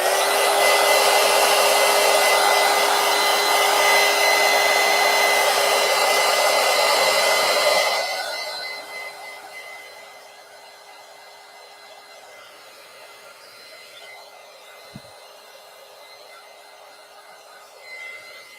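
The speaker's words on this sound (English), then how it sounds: "let me get out my heat gun" A heat gun blows steadily and loudly for about eight seconds to dry matte medium on an art journal page, then shuts off and leaves a faint residual hiss and a single small click.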